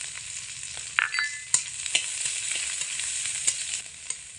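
Garlic and finely chopped small onion frying in a pan for a potato-and-flour snack, a steady close sizzle with occasional stirring scrapes and clinks, no voices.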